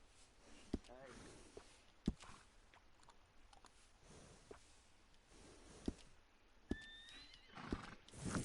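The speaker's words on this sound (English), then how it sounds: "And a fine new horse." A horse in a PS4 video game neighs and clip-clops, with faint whinnies and scattered hoof knocks and chewing-like sounds, quiet and intermittent against a low background.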